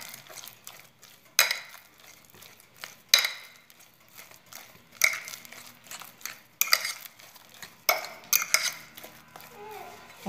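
Close scraping and clinking of a utensil against a bowl while mixing a potato gratin mixture with milk, in broken bursts of stirring separated by brief pauses.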